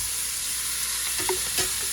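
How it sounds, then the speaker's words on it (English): Minced garlic and onions sizzle steadily in a hot pan on the grill while being stirred, with a couple of soft scrapes and clicks over the constant close frying hiss. "Both the onions and the garlic have a lot of flavor that comes out when you grill them."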